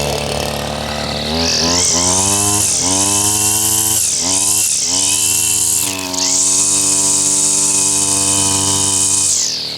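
Mitsubishi two-stroke engine on a brush cutter running loud and close, revving up and down in several surges before settling into a steady high whine, with no talk.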